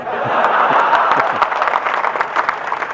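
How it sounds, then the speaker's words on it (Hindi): Dense applause from a crowd at a Haryanvi comic poetry show, loud and steady for a few seconds with sharp individual claps standing out. "आपकी तालियां चाहूंगा साहब"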